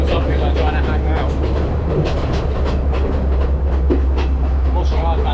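A scenic train ride in Sri Lanka, with steady rumbling wheels and carriage noise filling the whole stretch, plus faint clicking and muffled voices of passengers under the constant rail din.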